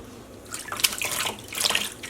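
Tap water runs and splashes while hand-painted wool-acrylic yarn dyed with Rit liquid dye is rinsed. The flow is close and swells slightly in brief surges, with no talk.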